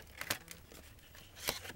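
Knife slicing through a cardboard box along scored lines, a few short scraping, tearing cuts at close range, two sharper strokes standing out against quiet room noise.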